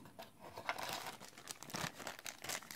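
Plastic packaging around the grounding wire for a TS100 soldering iron crinkles and crackles as it is unwrapped by hand. The sound is faint, close and irregular, with no voices.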